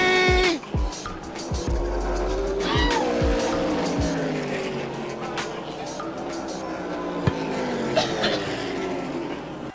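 ARCA race cars roaring to the finish at Daytona, engines wailing and passing with tire squeal, while a PA announcer calls the win over the loud crowd and track noise.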